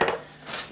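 A metal pan holding whole cumin, ground spices and a red chili is shaken and tossed on the stove, giving two or three short, close rattling scrapes of food against the pan.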